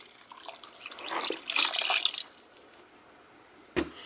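Spring water pours into a pot of rice for jollof, building from splashing into a louder gush that fades out, followed by a single sharp knock near the end.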